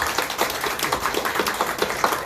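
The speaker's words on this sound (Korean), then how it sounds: "박수로서 크게 환영하면서 축복하겠습니다." Church congregation clapping together in welcome during a Sunday morning worship service, a steady, dense patter of many hands that stays fairly even and moderately loud throughout, with no speech over it.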